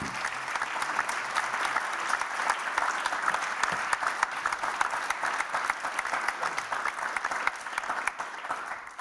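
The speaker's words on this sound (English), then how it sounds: "You deserve a great applause" An audience at a summit session on building with wood and forest potential gives the panelists a sustained round of applause, with dense, even clapping throughout.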